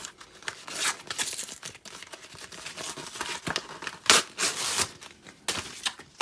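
A 2019 MacBook Pro 13-inch box is torn open with close, crinkly rips and scratchy tearing of packaging in irregular bursts, loudest midway, with no talking.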